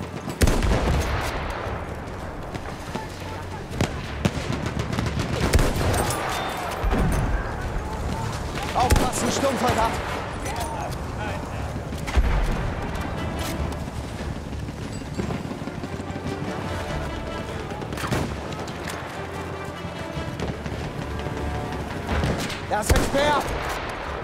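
Battlefield 1 video game gunfire crackles in repeated bursts and rapid volleys through a dense, loud battle mix, with a voice speaking over the action.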